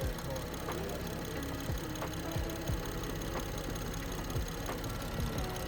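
Running car engine at a steady idle with a slipping, jumping accessory belt giving a rough, repeated knocking pulse, close by, with faint voices in the background.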